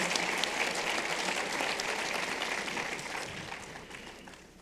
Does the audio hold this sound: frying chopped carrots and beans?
no